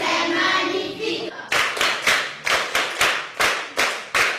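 A classroom of schoolchildren applauds together in a steady rhythmic beat, about eight loud unison claps following a brief burst of scattered clapping and noise.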